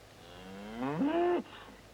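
A single loud moo from wild cattle, rising and then cutting off, heard clearly with no talking around it.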